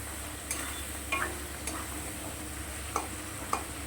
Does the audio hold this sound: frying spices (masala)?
yes